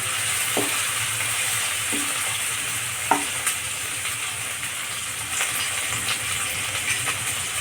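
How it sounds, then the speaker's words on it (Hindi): Onions frying in a pan for an aloo methi dish, with a continuous close sizzle and hiss broken by a few soft scraping stirs of the spoon. "प्याज को चला चला के फ्राई करेंगे।"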